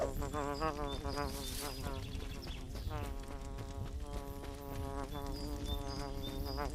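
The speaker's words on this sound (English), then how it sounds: "I need that bee. How do I get that bee? I can't destroy it." Buzzing of a bee in the video game Ashes of Creation, a wavering insect drone that rises and falls over busy game music and effects, with no speech.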